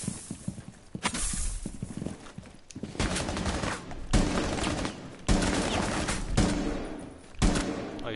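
Gunfire at enemies in a video game comes in loud, sustained bursts broken by short pauses, with rapid repeated shots carrying through the clip and no talk.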